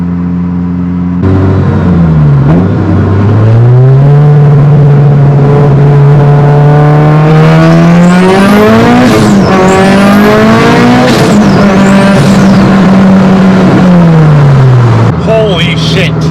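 A 700+ horsepower Mitsubishi Evo 8 accelerating hard through second and third gear, a very loud, close engine rising in pitch, dipping at each shift and climbing again before easing off.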